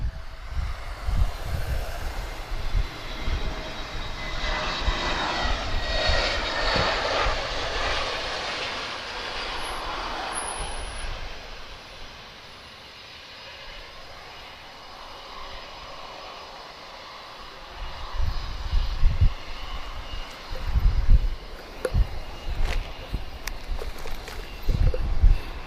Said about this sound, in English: A320 inbound, Tango Victor Alpha arriving from Faru